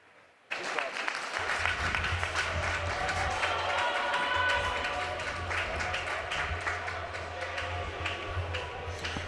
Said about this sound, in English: Fans, how about one more round of applause for your graduating Mustangs?